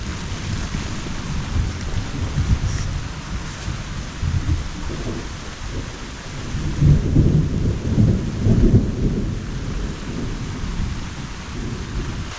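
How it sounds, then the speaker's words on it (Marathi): Steady rain hisses while deep thunder rolls in the distance, swelling into a louder rumble midway before easing back. "विजा चमकत आहेत आवाज ऐकलात काय घाबरलो"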